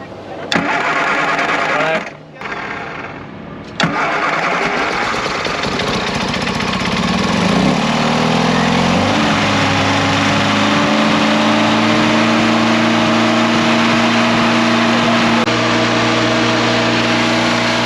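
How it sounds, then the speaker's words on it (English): A misfiring Classic Mini engine cranks, catches and revs loudly and unevenly, sputtering and stumbling, with a steady high idle roar continuing throughout; brief drops as it cuts out early. "it had a pretty big misfire, as you can probably hear when I was starting up and cranking it"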